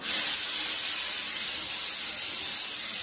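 A Fortador semi-industrial steam cleaner puts out a steady, loud hiss of wet steam that holds at an even level for about three seconds with no pauses and no voices.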